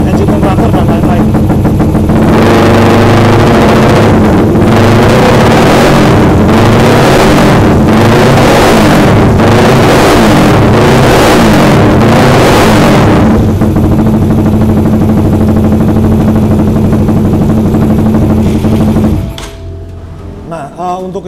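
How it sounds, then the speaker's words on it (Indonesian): A motorcycle engine running on a UMA M9 ECU, a steady loud idle with rhythmic pulsing revs through the first half, then settling into an even drone before cutting off near the end. "kita hidupkan dulu motornya"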